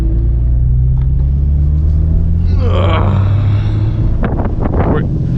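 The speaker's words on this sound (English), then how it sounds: "let's send it over to Charlie so you guys can see what this M4 is like on the track" A 2021 BMW M4 with a six-speed manual gearbox driving on a track, a loud, steady low engine rumble with wind buffeting and a brief surge in revs, heard close from inside the car.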